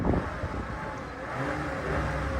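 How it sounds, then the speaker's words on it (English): Hail-damaged 2013 Toyota Camry at a Copart auction walkaround, engine revved briefly, a short low rising surge heard close. "let's give it a couple revs."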